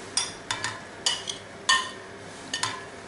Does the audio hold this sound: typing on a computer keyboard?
no